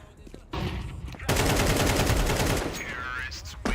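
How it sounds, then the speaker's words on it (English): In the video game Counter-Strike 2, a flashbang grenade pops, then dense gunfire bursts rattle loudly and continuously, with a muffled voice partly underneath. "Flashbang out."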